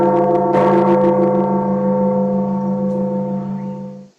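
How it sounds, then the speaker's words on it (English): Metropolitan Cathedral bell in Mexico City struck once, its deep, rich tone ringing out loud and slowly fading over a few seconds. "with the bell ringing from the Metropolitan Cathedral in Mexico City"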